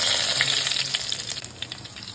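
Onion, crushed chilli and curry leaves fry in hot oil, making a loud, close, crackling sizzle that stays steady throughout with faint stirring, and no voices.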